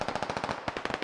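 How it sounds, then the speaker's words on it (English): Rapid automatic gunfire from the military shooter game Squad, a steady stream of loud close bursts rattling at a fast rhythm with no voices over it. "There's a problem. Someone's getting shot."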